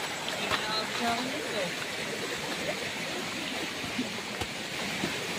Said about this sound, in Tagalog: Nakatawid kami sa ilog.